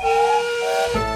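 A steam engine whistle blows loud and close, a sustained bright tonal shriek with hissing steam that changes pitch near the end.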